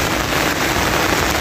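Steady rain falls, a dense and loud continuous hiss of drops with no breaks and no voices.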